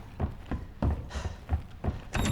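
A door opening in Resident Evil 2 during gameplay, heard as a few soft thuds and a brief sliding sweep, fairly quiet.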